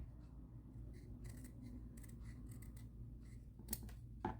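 Scissors snip and round off a cardboard toilet paper roll for a tassel topper, making faint, close, intermittent cutting clicks over a low background hum.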